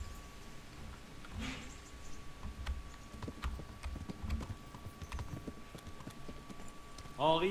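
A horse's hooves clip-clop sparsely in the video game Kingdom Come: Deliverance, faint scattered thuds at a slow walk, with a short burst of a voice or game sound near the end.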